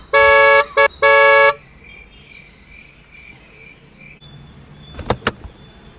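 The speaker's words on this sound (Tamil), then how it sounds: "ஹார்ன் அடி. எதுக்கு ஹார்ன் வச்சிருக்காங்க? அடி அடி." A car horn blasts from inside a family car stuck behind a slow vehicle: two long honks with a quick short toot between them. A faint steady insect-like whine and a couple of sharp clicks follow.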